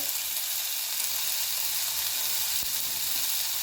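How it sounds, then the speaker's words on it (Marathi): Turmeric and onion-garlic masala sauté in a hot pan for sprouted moong usal, giving a steady, close, even sizzle throughout with one brief soft knock near the end and no talking. "थोडासा कांदा लसूण मसाला आता हे व्यवस्थित परतून घेणार आहोत"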